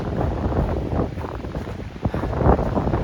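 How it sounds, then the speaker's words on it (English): Strong gusting wind at Dream Lake in Rocky Mountain National Park buffets the microphone in a continuous loud rumbling roar with surging gusts, no voices. "It's pretty windy, but I've been here in worse conditions."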